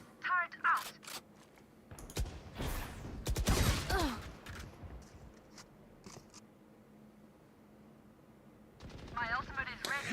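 Automated turret fire in a Valorant match, several short bursts of shots and mechanical clatter, loudest early on, with game ambience and quieter stretches in between.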